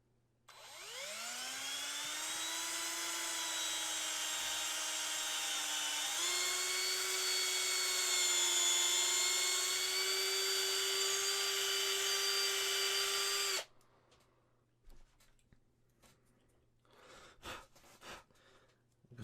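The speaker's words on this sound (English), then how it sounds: "So I drilled the hand, I drilled this arm, and I think I'm gonna drill the heads." A small power drill whines steadily while boring pinning holes into a resin Predator model kit figure, its tone rising as the motor spins up and stepping higher midway before cutting off after about 13 seconds, followed by faint handling noises.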